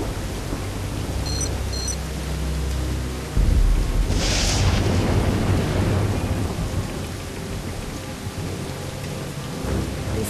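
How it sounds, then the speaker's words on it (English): A storm in Jurassic Park: The Game: steady heavy rain hisses throughout while a deep thunder rumble rolls in partway through and lingers, loud and close, with no voices. "Storm is only gonna get worse."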